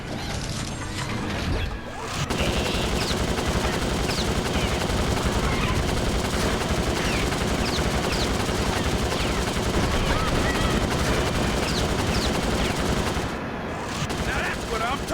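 A turret gun in a GameCube racing game fires continuously in loud, rapid bursts with mechanical clatter, briefly pausing near the start; a voice talks over the shooting.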